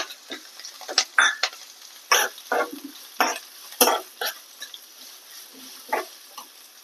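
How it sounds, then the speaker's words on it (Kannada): Chopped onions and curry leaves frying in a pan for a Mandya-style nugge soppu palya, with soft sizzling and intermittent scraping, stirring clatter in short irregular bursts, fairly quiet and close. "ಸಣ್ಣದಾಗಿ ಹೆಚ್ಕೊಂಡು ಇದನ್ನು ನೀಟಾಗಿ ಫ್ರೈ ಮಾಡ್ಕೊಬೇಕು"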